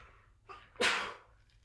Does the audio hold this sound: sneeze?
yes